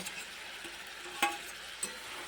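Fried potatoes and pointed gourd (kakrol) being stirred in a spiced pan with sour yogurt masala, a soft sizzle under a couple of sharp spoon scrapes against the pan.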